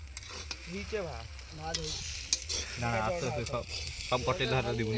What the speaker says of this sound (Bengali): ঝরঝরে পুরো পেঁয়াজ ভাজছেন, নাচিয়ে নাচিয়ে পেঁয়াজ ভাজছেন।